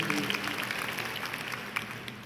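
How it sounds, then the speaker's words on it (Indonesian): A church congregation claps together in a sustained burst of applause during a sermon, dense and steady, with a few louder claps standing out. "Boleh gak tepuk tangan sekali lagi Bapak Ibu?"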